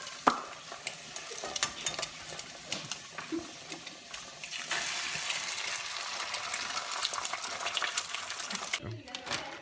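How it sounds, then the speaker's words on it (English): Eggs sizzle and crackle steadily in a hot frying pan, with stirring scrapes and a voice talking briefly over it. "Ooh, listen to the sound. Like that sizzle."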